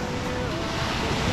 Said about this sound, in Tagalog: Wow! Malakas ang alon.